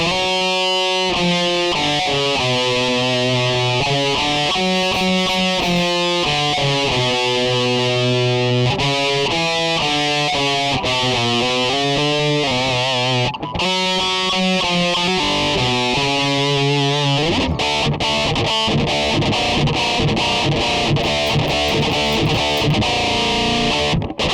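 A Harley Benton ST-JAMster electric guitar plays a chord-and-riff passage through its built-in distortion effects with no delay, then shifts to fast picked strumming, loud and continuous with no speech.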